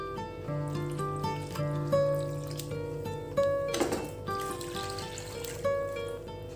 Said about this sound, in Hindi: हम इसमें करीब 300 ml पानी डालेंगे